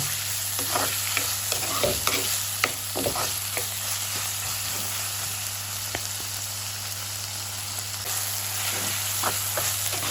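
Tomato sautés in a pan of oil for a crab curry, giving a continuous crackling sizzle with repeated spatula stirs and scrapes, close and steady, with no talking.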